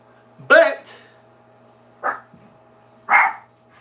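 A pet dog named Lily barks three separate times at close range, each a short sharp bark with pauses between, against a quiet indoor background with a low steady hum.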